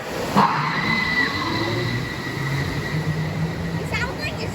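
A roller coaster train at Six Flags Great America in Gurnee, Illinois grinds and rumbles steadily as it climbs, with a mechanical whine, a clunk near the start and faint voices around.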